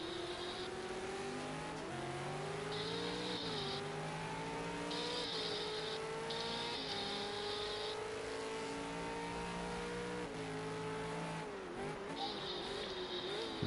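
Race cars in a racing game at Donington Park, engines droning and rising in pitch through gear changes, steady and close, with several engine tones layered together throughout.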